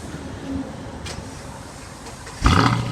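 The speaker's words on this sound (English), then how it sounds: "Now I'll give you a listen to that exhaust." After a quiet stretch, a remote-started 2015 Holden Commodore SS V8 (VF Series 2 SSV Redline, automatic) bursts into a sudden loud exhaust roar near the end.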